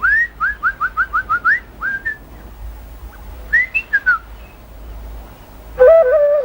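A hunter's pipe whistles a run of short, rising tonal notes in quick succession to call a honeyguide, pausing and then repeating in a second brief burst, close and clear. A lower, wavering whistled tone follows at the end.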